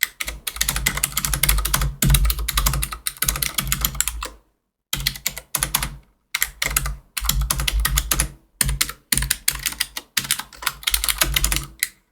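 Rapid clicky typing on a Razer Deathstalker V2 Pro keyboard with low-profile optical switches, close and crisp, in bursts separated by short silent pauses.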